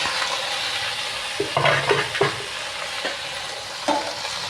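Fenugreek leaves, amaranth and okra curry sizzle in a pan with a steady frying hiss, broken by several close scraping strokes of a spoon stirring, no voices.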